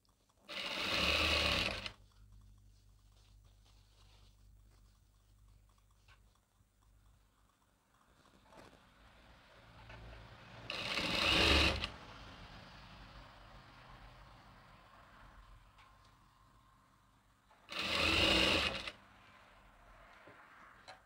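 A sewing machine stitches a petticoat seam in three loud, short bursts of rapid running, separated by long quiet pauses with faint handling noise.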